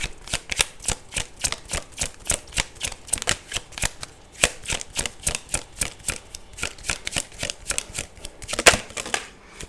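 Tarot cards are shuffled and drawn in a quick, steady run of crisp riffling snaps and flicks, close up and alone with no talking.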